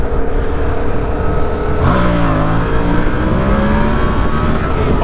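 Motorcycle fitted with dirt bike handlebars and a stunt clutch lever, engine revving and climbing in pitch while popping wheelies, loud and continuous with wind noise and no talk.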